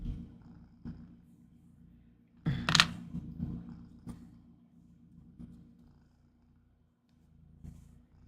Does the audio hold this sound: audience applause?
no